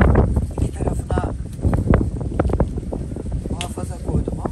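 Strong wind gusting across a microphone outdoors while tomato pickles are made, giving a heavy, uneven low rumble and buffeting throughout, with a voice faintly underneath.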